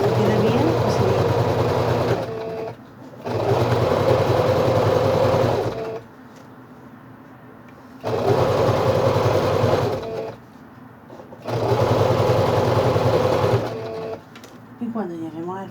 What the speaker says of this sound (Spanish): cosemos y rematamos